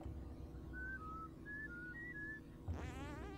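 Short whistled tones from the Oddworld video game, a rising and falling series of about six brief notes over a low steady hum, followed by a wavering electronic warble at the end.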